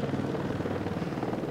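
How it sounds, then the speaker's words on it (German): A tourist helicopter flies overhead on La Réunion, its rotor a loud, steady low thudding throb that fills the whole stretch with no voices over it. "Helikopter, tja, das ist das Nervige an La Reunion."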